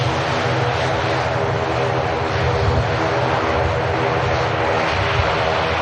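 A Ryanair airliner from Prague on final approach to Manchester Airport, heard as a close, continuous engine rumble with a low droning hum, steady and alone.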